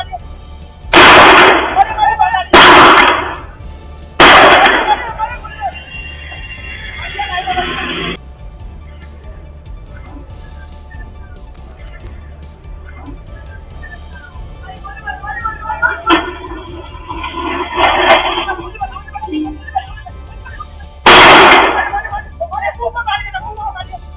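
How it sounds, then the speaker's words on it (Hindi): Several gunshot rounds fired one after another by police at the tyres of a Scorpio vehicle, loud sharp bangs in a group early on and another near the end, with speech and crowd noise in between. "एक पुलिसकर्मी ने स्कॉर्पियो के टायर को निशाना बनाते हुए एक के बाद एक कई राउंड फायरिंग की"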